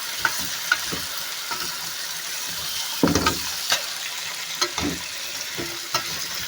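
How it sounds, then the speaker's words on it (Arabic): Spiced chicken pieces are flipped in a hot frying pan, a soft steady sizzle broken by scattered scrapes and clatters as they turn. "تعالي بقى نقلب الفراخ"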